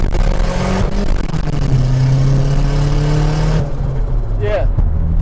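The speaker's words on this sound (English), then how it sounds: "Yeah, it's those turbo noises. That's what was missing." A turbocharged car with a simple homemade turbo setup is driven, its loud, steady engine drone shifting in pitch as it pulls, and a brief rising whistle comes near the end.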